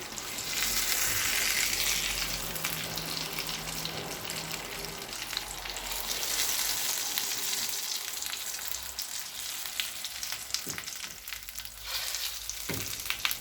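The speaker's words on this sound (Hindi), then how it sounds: "रान को अच्छे से फ्राई कर लिया है।" A mutton leg (raan) frying in a pan gives a steady, close sizzle and crackle. It eases slightly partway through, and a few soft clinks and knocks sound near the end.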